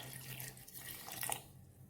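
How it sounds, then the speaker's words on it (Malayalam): Water poured from a tap into a mixer grinder jar holding gooseberries for a gooseberry lemon juice, a steady close splashing trickle lasting the whole short moment with no talk. "നെകയ്ക്ക് വെള്ളം ഒഴിച്ചു കൊടുക്കാം"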